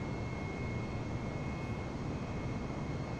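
Aircraft engines roar steadily at full thrust for takeoff in a flight simulator game, a dense, loud, unbroken broadband rumble with a faint high whine, with no voices.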